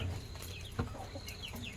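Chickens cluck softly inside their coop on a rainy day, a few faint, scattered clucks and calls close by over a quiet background.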